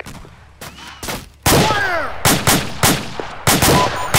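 Gunshots crack close by in a warzone firefight while hunting a warlord: a string of loud, sharp reports, some isolated and some in quick bursts, with an echoing tail after each.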